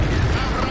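An artillery barrage in the World War II strategy game Company of Heroes, a continuous loud roar of booming blasts and rumble that fills the short moment without a break.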